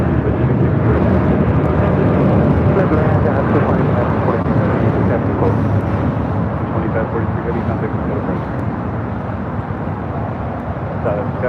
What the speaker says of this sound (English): Avianca A320 Neo heading back to Guatemala City, flight 641